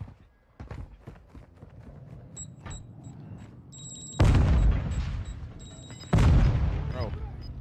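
Grenade explosions during a battle royale video game fight: two loud, heavy booms arrive a couple of seconds apart, each leaving a long rumbling tail, with game chatter and a voice speaking in the lead-up.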